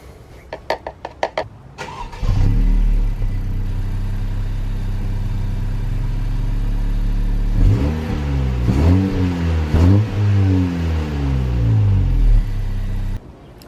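A few clicks, then the turbo engine of a 2016-or-later Honda Civic starts and settles into a steady, close rumble, with a couple of brief revs partway through.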